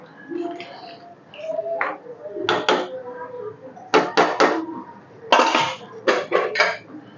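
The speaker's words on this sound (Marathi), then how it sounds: "आता मी कुकरचं झाकण लावणार आहे" Several sharp metallic clanks and scrapes come in quick clusters as a pressure cooker lid is fitted and pressed shut over chicken dum biryani, close and fairly loud.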